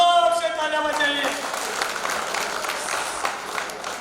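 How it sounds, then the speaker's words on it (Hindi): Applause breaks out for four workers at a film studio set-builders' union event, a broad steady clatter of many hands under a speaker's trailing voice at the start, holding for the whole stretch. "इनके चारों के लिए जोर से तालियां बजाइए"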